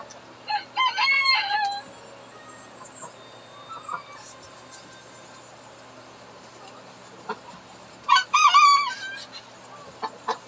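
Rooster crowing twice, about eight seconds apart, with chickens clucking and calling softly in between on a backyard flock at feeding time, fairly close and clear over a quiet outdoor background.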